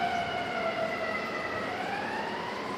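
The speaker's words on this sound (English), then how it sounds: "There's always sirens." Emergency vehicle sirens wail on a Chicago street, a steady, fairly loud, continuous tone with slowly shifting pitch that carries through the whole stretch with no talking.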